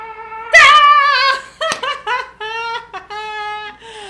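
A small dog yips, whimpers and whines up close in a quick run of high, pitched cries, some short and sharp, others drawn out, with quiet gaps between them.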